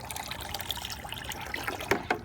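A pump circulates vinegar from a bucket through two hoses on the cold and hot lines of a tankless water heater during a descaling flush, giving a steady, quiet liquid trickle with a couple of brief gurgling splashes near the end.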